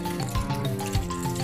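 Tap water runs steadily into a toy water gun during a refill, a continuous splashing and trickling stream at close range with no talk over it.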